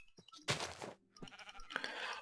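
Sheep in the video game Eternal Isles bleat in short, rough bursts, one loud bleat followed by a couple of shorter ones, set against game background sounds.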